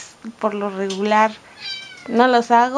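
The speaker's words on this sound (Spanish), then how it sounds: "Si oyen maullidos de fondo" Kittens meow repeatedly in the background while someone talks in Spanish, their high, drawn-out cries rising and falling close by.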